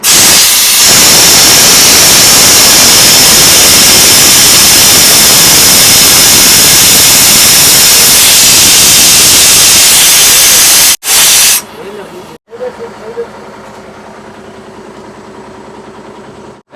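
Pressurized air hisses loudly and steadily from a truck stopped at a fuel station, a broad rushing sound like a leak. It runs for about eleven seconds, then cuts off abruptly, leaving a quieter background with brief knocks.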